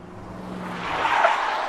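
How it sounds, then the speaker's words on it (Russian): Engine noise builds steadily as cars roll up in the Minecraft video game, a low hum fading out while a rising wash of motor and tire sound grows louder toward the end, with no voices. "А машины подъехали."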